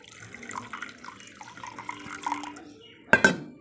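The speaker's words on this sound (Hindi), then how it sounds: "अब इसमें हम ऐड करेंगे पानी।" Water is poured onto a spoonful of fenugreek seeds in a pan, trickling and dripping faintly before a louder, close splash near the end.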